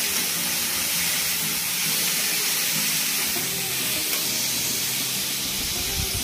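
Bottle gourd going into a hot pan for dudhi halwa gives a steady, loud hiss of sizzling and steam that holds evenly throughout, with no voices.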